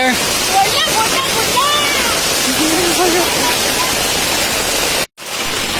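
A constant loud rush of heavy rain and running floodwater in Pernem Taluka fills the scene, cutting out abruptly for a moment near the end.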